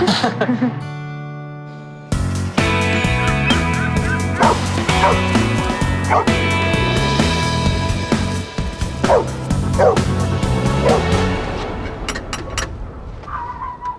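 A dog yips, barks and whimpers loudly and repeatedly in a steady run of high, pleading cries, fading into softer whines at the end.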